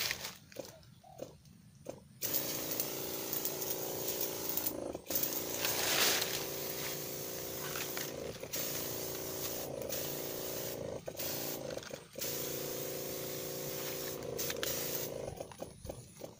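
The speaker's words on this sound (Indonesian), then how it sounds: "Kita semprot di sebelah sana ya." A sprayer spraying liquid fertilizer onto cacao pods in a cacao plantation, a steady close hiss running for most of the stretch, broken by short pauses and mechanical clicks.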